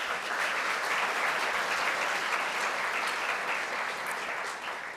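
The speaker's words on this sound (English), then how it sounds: "Let's give them a round of applause." A large audience at a congressional district forum claps in a round of applause for newly recognised board directors, a thick, sustained roar of hands that holds level and eases slightly near the end.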